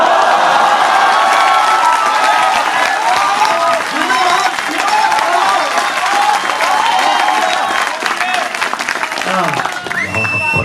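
A crowd at a comedy poetry gathering (kavi sammelan) claps loudly and continuously, mixed with some cheering and shouts, while a performer keeps talking over the applause until it thins out near the end.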